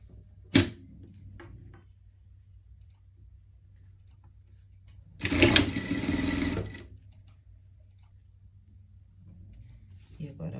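A sewing machine stitches rib knit trim onto the armholes of a surgical garment. A sharp click comes first, then one close, buzzing run of stitching lasting about a second and a half, with quiet pauses around it.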